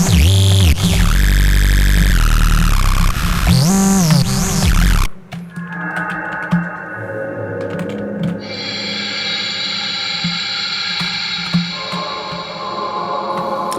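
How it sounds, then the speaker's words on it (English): A harsh, buzzy distorted synth tone warbles loudly for about five seconds, then gives way to a quieter sustained tone with lingering texture. "This is the clean distortion that I use for the sample"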